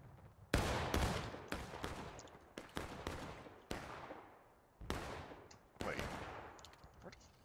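Musket volleys crack out in the Civil War game War of Rights, sharp loud reports arriving one after another at irregular intervals, each trailing off in an echoing rumble, with scattered voices faintly underneath.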